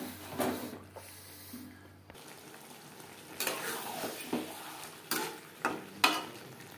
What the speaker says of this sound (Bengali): ঢাকনা চাপা দিয়ে 5-6 মিনিট মিডিয়াম ফ্লেমে মশলার সাথে আলু এঁচোড় কষিয়ে দেব।